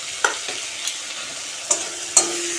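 Potato and bitter gourd fry in a kadai-style wok under a soft, continuous hiss, broken by four or five sharp spatula clinks against the metal.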